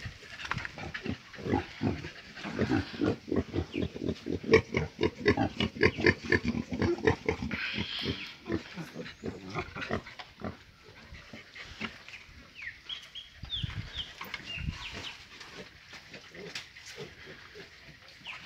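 A breeding boar being bathed on a farm, grunting in a rapid rhythmic series of close, heavy snorts that later thin into scattered grunts and splashy handling sounds.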